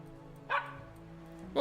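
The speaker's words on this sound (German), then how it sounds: "Wuff, wuff." A dog barks in the 19th-century city-building game Anno 1800: two short, faint barks, one near the middle and one cut off at the end, over a low steady game hum with no talk.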